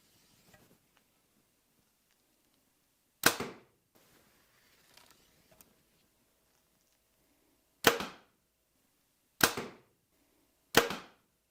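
A 2025 Hoyt Alpha AX2 compound bow is shot alongside another bow, giving four sharp, close thwacks of released string and arrow, spaced apart by quiet gaps with faint handling noise between.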